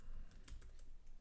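Rapid, faint keystrokes on a computer keyboard, a short burst of closely spaced clicks heard alone.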